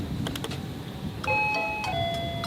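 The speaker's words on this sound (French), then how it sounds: "Il y a un interphone si jamais tu veux sonner." Doorbell intercom at a hotel entrance chiming a few times, clear electronic tones ringing out over faint background noise with a couple of light clicks, no talk.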